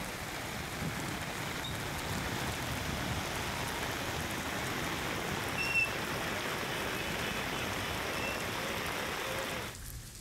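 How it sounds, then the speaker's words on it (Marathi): Heavy monsoon rain pours down in Nandurbar, Maharashtra, a dense, even roar of downpour that holds steady for the whole stretch with no voices. "नंदुरबारमध्ये मुसळधार पावसाला सुरुवात झाली आहे।"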